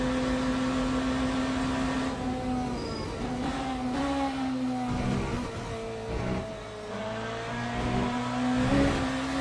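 Hypercar engines in the racing game Le Mans Ultimate drone steadily and loudly throughout, with a sustained tonal whine that shifts pitch slightly as cars rev and pass in a dense field.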